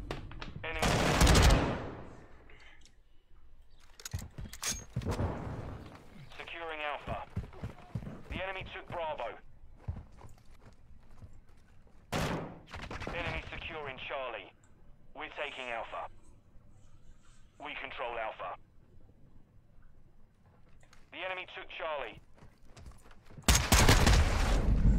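Shotgun fire in the video game Call of Duty, with sharp loud blasts at irregular intervals among bursts of other gunfire and game radio chatter.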